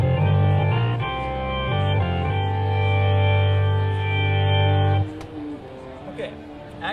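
Korg SV1 stage keyboard playing a sustained organ chord with thick low harmonics, loud and steady for about five seconds, then cutting to quieter, scattered tones.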